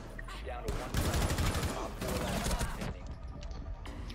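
Rapid gunfire bursts from a video game, loud and dense across most of the stretch, with players talking and shouting over the shooting.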